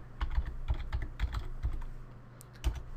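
Typing on a computer keyboard, a quick close-up burst of light clicky keystrokes in uneven clusters, pausing briefly before a final few taps, with no voices.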